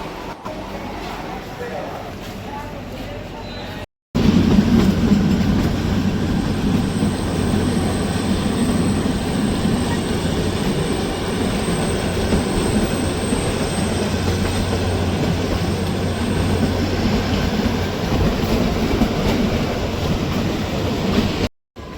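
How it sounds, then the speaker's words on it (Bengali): The Kalka–Shimla toy train rumbles along, a steady loud rolling roar of wheels and carriage that continues almost without pause, with people talking at times. "এই দেখো টয় ট্রেন।"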